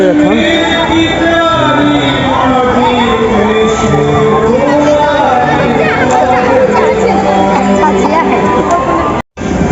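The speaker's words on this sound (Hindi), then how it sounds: "अखन का भीड़ देखियो वहाँ माता के भंडारा के प्रसाद लेबऽ लेल दर्शन करऽ कते आदमी भीड़ है एखन" A dense village crowd gathered for the Durga Puja Maha Navami bhandara feast, a loud continuous babble of many voices with shouts and calls rising over it, close and steady throughout.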